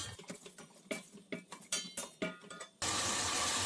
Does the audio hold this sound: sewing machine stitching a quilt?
no